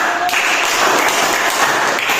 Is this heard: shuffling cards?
no